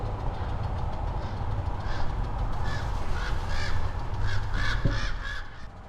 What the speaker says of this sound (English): They keep flying overhead here yelling.